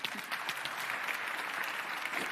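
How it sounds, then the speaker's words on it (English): Audience applause at a procurement conference in Amsterdam fills the room, a dense, steady wash of many hands clapping at moderate distance with no pauses. "Big round of applause"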